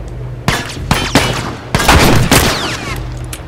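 Gunfire in The Last of Us video game: a few sharp shots ring out, then a denser burst of rapid firing with a lingering boom, loud and close, with no talk.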